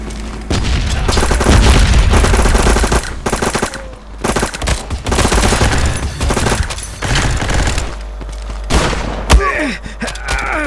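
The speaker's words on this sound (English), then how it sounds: "Grenade out!" A grenade goes off in a video game amid loud, continuous machine-gun fire and deep booms, with bursts of shooting broken by brief lulls and a sharp blast near the end.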